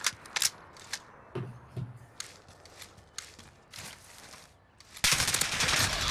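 Gunfire from a video game match comes in scattered quick shots and short bursts, close and sharp, before a dense louder volley near the end.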